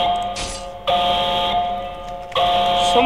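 An alarm siren blares in the Roblox game Murder Mystery 2, a loud electronic tone sounding in repeated bursts with brief gaps between them, each burst steady and piercing.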